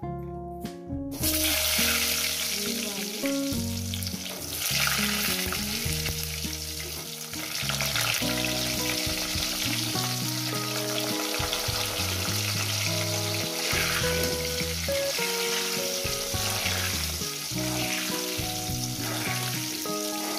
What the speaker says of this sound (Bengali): সুন্দর করে মিনিমাম 6-7 মিনিট করে আলুটাকে ভেজে দেবো।